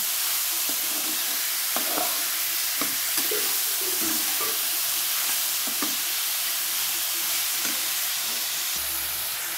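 Chopped tomatoes frying with plenty of vegetables for chow mein in a pan, a broad steady hiss punctuated by irregular clanks and scrapes of stirring.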